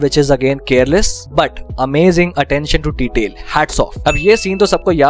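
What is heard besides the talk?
No everyday noise stands out behind the speech.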